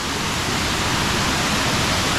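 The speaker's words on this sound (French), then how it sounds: "Des cascades à chaque fois au fur et à mesure." Waterfalls in Chiapas, Mexico cascade into a series of large pools, a loud, dense, unbroken roar of rushing water with no voices.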